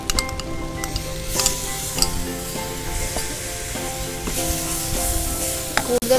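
Prawns fry in a hot pan with a steady, loud sizzle, broken by stirring scrapes and the odd clink of a utensil against the pan, with no talking.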